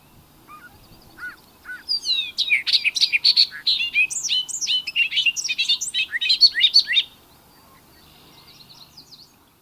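A male bobolink sings a bubbly, metallic, rambling song of rapid twisting notes, loud and close for several seconds, after a few short introductory chirps.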